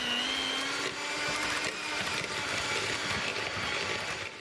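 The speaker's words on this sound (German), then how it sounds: "Butter noch oder Margarine, und dann wird das glatt gerührt." Cake batter with butter or margarine is beaten smooth by an electric mixer, a steady close motor whir with a faint high whine that holds throughout, unbroken and without speech.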